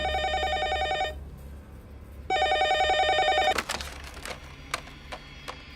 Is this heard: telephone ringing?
yes